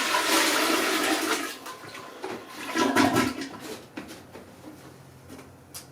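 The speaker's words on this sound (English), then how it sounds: "you can put the water in there and flush it normally" A toilet flushed by pouring water from a jug into it during a power and mains-water outage: a loud, close rushing gush that swirls and gurgles down, fading into trickling and drips.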